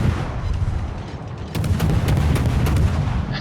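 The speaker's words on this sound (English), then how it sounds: "Even blind firing, landing a shell or two." Naval guns fire in the World of Warships video game, heavy booms over a dense, continuous rumbling battle bed, with sharper repeated reports crowding in toward the end.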